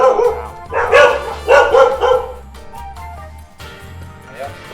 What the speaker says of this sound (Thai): กินไม่สนใจเห่าเห่าอย่างเดียว